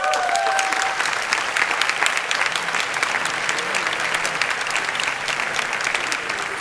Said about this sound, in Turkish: Sizi alkışlıyorum.